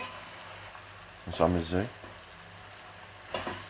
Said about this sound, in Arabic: ونديهم تقليبه مع بعض لحد ما البصل يدوب معانا